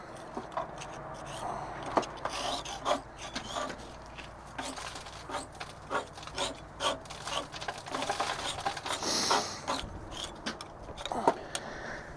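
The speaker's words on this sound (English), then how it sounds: "I like to give it a little scrape down because it just makes it easier to clean" A scraper worked over the dirty engine of a Freightliner Classic truck, giving repeated close scraping strokes and knocks in an uneven rhythm over a low background hum, with no clear speech.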